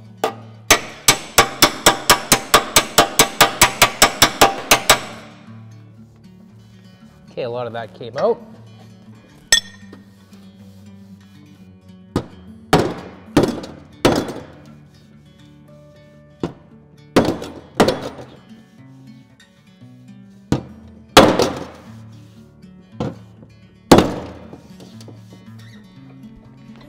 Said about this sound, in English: once you hear the dolly behind it, now you're hammering directly on it